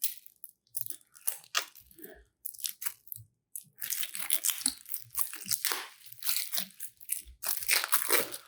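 Plastic wrapping being torn off a deck of Nemo's War board game adventure cards, close and crinkly, with sharp rips and crackles in bursts and brief pauses.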